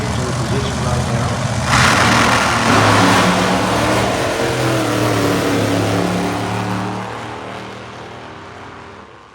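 A drag racing dragster engine roars loud and close during a race run at a drag strip, a broad sustained blast that surges near two seconds and slowly fades, with a commentator talking over it.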